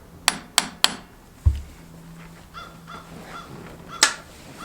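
Light hammer taps on a wheel puller fitted to the tilt steering of a Kubota LX2620SU tractor: three quick sharp metallic taps, then a duller knock and a later single tap, close and crisp against quiet background noise.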